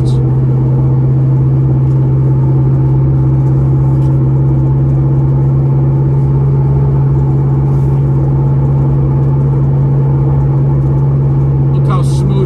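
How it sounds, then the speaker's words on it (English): A 1968 Dodge Charger Hemi cruising at about 50 mph and 2200 RPM gives a steady, smooth low engine drone with road rumble throughout, with a brief faint rattle near the end. "Look how smooth it drives down the road. We're doing 50 miles an hour at 2200 RPM."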